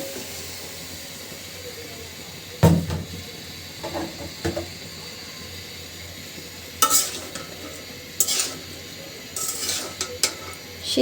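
Vegetables tipped into a pan of cooked-down spice paste for a Katla fish curry, then stirred, with a sudden pour near the start and a few scraping, clattering spoon strokes over a low background hiss.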